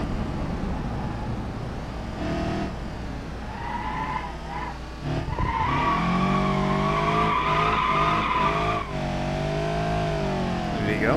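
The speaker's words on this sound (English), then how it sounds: "Once again, see it downshift in the 4th gear" A car engine in BeamNG with an automatic gearbox revs hard, its pitch rising and then dropping sharply as it changes gear, with tire squeal and skidding mixed into the loud, close drive.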